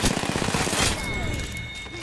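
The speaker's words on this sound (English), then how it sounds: "I'm getting shot at." Bursts of game gunfire in an Apex Legends match, dense rapid shots loud for the first second, then fading into softer distant pops with lingering tones.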